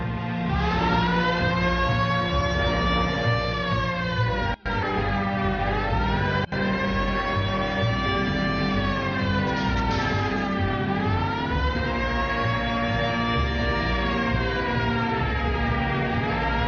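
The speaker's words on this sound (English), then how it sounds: "Hit the siren." A continuous wailing police car siren in the video game L.A. Noire, rising and falling in long sweeps, loud and steady over a low engine rumble, with no speech.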